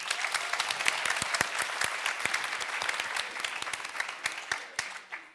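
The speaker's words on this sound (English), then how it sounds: "Applause." Audience applause following a university research presentation at a student science event, a steady patter of many clapping hands that thins and tapers off toward the end.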